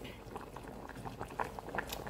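Fish curry boils in a pot with a continuous bubbling of soft pops and gurgles, close and fairly quiet, without talk.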